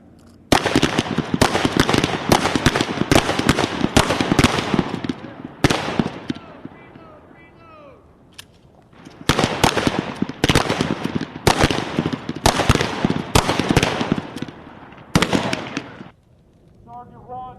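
Rapid bursts of rifle and machine-gun fire crack out at a U.S. Army marksmanship range with M4 carbines and M240B guns, loud clustered volleys separated by brief pauses.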